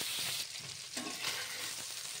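Stinging catfish (shing) and potato pieces fry in hot oil with a steady, dense sizzle that holds loud and close throughout, with a few soft shifts in intensity.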